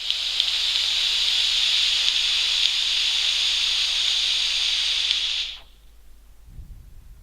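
A large cloud of e-cigarette vapour is exhaled, producing a loud, steady airy hiss lasting about five seconds before it cuts off into quiet.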